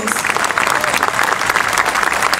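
Crowd applause at the close of a Feria Progreso 2022 public event with a Mexican Army music band, a loud, dense burst of steady clapping lasting a couple of seconds.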